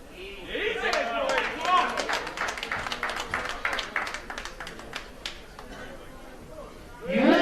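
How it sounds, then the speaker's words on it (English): A burst of rapid clapping rises and fades amid crowd chatter at a powerlifting championship, fairly distant, followed by a louder swell of noise at the end. "There, a clap of the hands."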